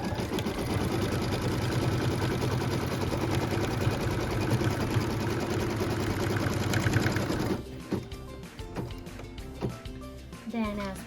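A sewing machine runs steadily, stitching a tack-down line on a quilt block piece, a dense continuous mechanical whir for about seven seconds before it stops and a few softer clicks and handling sounds follow.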